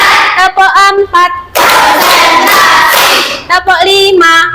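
A school class claps together in a counted rhythm game, a dense burst of hand claps in the middle, with children's and a teacher's chanting voices before and after it.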